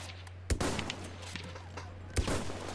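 Gunfire in the video game Battlefield 1 while the player moves, with two sharp, punchy shots about a second and a half apart over a dense bed of background battle noise and a steady low hum.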